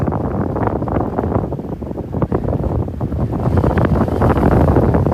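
Strong, ferocious wind buffeting the microphone on Delnor-Wiggins beach near Barefoot Beach, a loud continuous roar with surf and water noise blended underneath.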